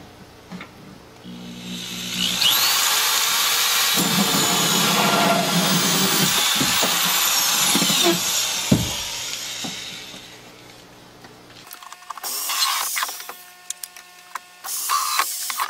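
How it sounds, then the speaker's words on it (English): A power drill bores holes into a vertical garden nutrient-system part, whining at a steady high pitch for several seconds with a brief bite partway through, then spinning down, followed by shorter separate bursts of drilling. "so I'm going to drill 6 holes into here"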